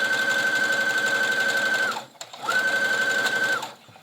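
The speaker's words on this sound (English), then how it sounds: "I'm going to put in that just a basting stitch here from the top around the top of my cap" A sewing machine runs a long basting stitch around the top of a sleeve cap, whirring steadily for about two seconds, pausing briefly, then running again before stopping; close and clear, no talking.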